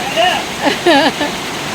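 Heavy rain and strong wind from a storm make a steady broadband hiss and roar beneath a voice talking over it throughout the short stretch.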